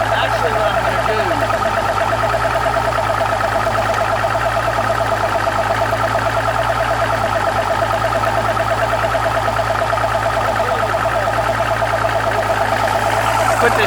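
A low oil alarm on a Mercury outboard motor blares as a continuous harsh, buzzing electronic tone, loud and unbroken for the whole stretch, with a steady low hum underneath.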